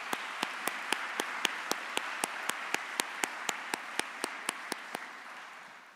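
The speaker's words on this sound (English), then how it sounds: "please help me in giving all of these sponsors a proud applause for their support" At the DeKalb County State of the County 2023 address, an audience applauds the sponsors: about twenty steady, evenly spaced claps ring out over a low, diffuse crowd wash that eases off slightly toward the end.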